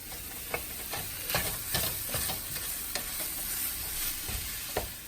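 Sausage frying in a pan for a keto breakfast scramble gives a steady close sizzle, with scattered clicks and scrapes of a utensil turning the meat throughout, and no voices.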